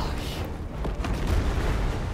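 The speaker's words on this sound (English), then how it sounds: "These explosions are so bad." Explosions during the Fortnite Season 7 live event video game: a continuous, heavy, rumbling roar of blasts with muffled booms layered over each other, loud and close throughout.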